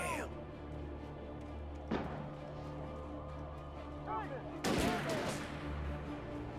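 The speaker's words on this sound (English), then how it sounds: "Why are they all shooting at me?" Police gunfire in the video game Alan Wake Remastered: a couple of sharp, loud gunshot bursts, one near the middle and a heavier one later, over a low, rumbling game ambience.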